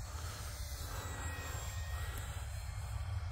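An E-flite Cirrus SR22T RC model airplane flies at three-quarter to full throttle over winter grass. Its motor gives a steady, faint whine at a distance, constant throughout with no talk.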